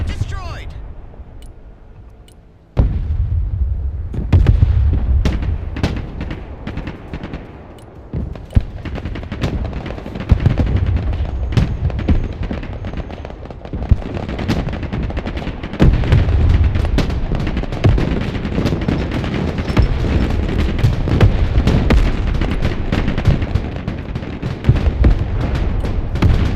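Missile strikes, explosions and gunfire in the modern warfare strategy game Broken Arrow, with dense bursts and booms running continuously and loudly throughout, voices talking now and then.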